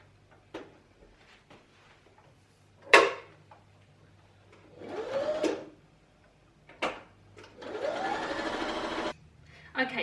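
Sewing machine quilting fabric layers for an oven mitt, short bursts of fast motor whirring and needle stitching separated by pauses, with handling clicks and some quiet speech between runs.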